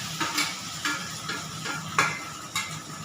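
Spice paste frying in a pan gives a soft sizzle, broken by about five distinct scraping stirs of a spatula against the metal at roughly even intervals, with no voices.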